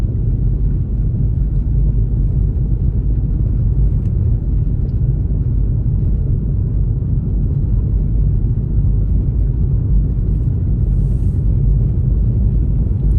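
Steady low interior rumble of a car driving on a city road and highway, continuous road and engine drone throughout with no talk.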